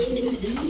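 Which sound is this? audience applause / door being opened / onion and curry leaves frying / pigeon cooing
pigeon cooing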